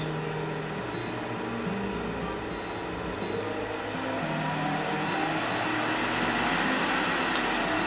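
A single-phase MC1420VF wood lathe with a variable-frequency drive runs forward, giving off a steady, even whirring hum with a faint high whine that holds throughout, with no talking.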